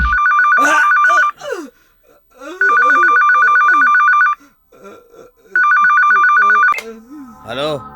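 A telephone rings in three long electronic bursts, and people talk in the pauses between the rings.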